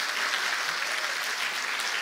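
A church congregation at a Sunday service claps for the choir, a dense, steady wash of applause filling the short stretch at moderate volume with no voice over it.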